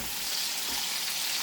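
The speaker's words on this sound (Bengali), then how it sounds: "একটু টমেটোটা ভাজা হয়ে যাক" Tomatoes frying in a hot pan for a dish of onion greens, giving a steady, soft sizzling hiss that continues without a break.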